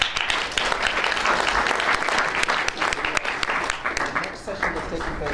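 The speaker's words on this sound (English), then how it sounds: "Please give a round of applause to the panelists." Sustained applause from a conference panel audience fills the room, dense clapping that stays loud before thinning slightly toward the end.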